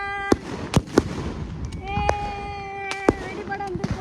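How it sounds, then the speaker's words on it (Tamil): New Year firecrackers burst in a Thai village, a series of sharp cracks and pops, some near and loud, others fainter, with people talking and crackling between bursts. "வெடி போட வந்திருக்கோம்."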